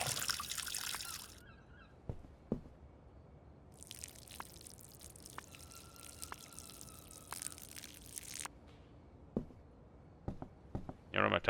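Water pours and trickles in the Schedule 1 video game, a faint, broad splashing stream running for several seconds between brief dribbles and small drips, quiet overall with no talk.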